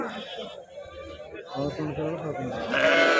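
Sheep and lambs bleat repeatedly at a busy weekly sheep and goat market in Mudigubba, overlapping calls rising toward the end over background crowd chatter and voices.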